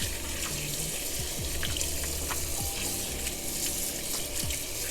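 Tap water runs steadily over raw pork chops in a draining bowl, a close, continuous splashing rush with light shifting patters, no talking.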